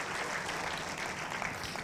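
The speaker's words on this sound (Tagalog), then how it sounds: "Sino ang gustong makaranas ng net-breaking blessing? Pumalakpak nga ng malakas." A church congregation claps loudly together, a dense steady wash of applause with no pauses, close and full throughout.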